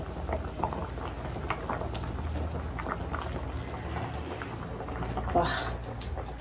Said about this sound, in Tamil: இந்த மீன் குழம்பு நல்லா கொதிச்சுட்டு இருக்கு